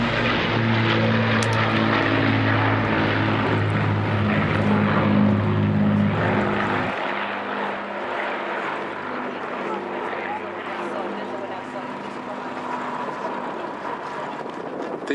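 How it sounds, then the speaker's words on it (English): Avro Lancaster bomber escorted by a Hawker Hurricane flying past at the Duxford air show, a loud droning roar of piston propeller engines that fades as they pass, with a commentator talking over it. "here come the Lancaster from the Dam Busters, escorted by its Hurricane."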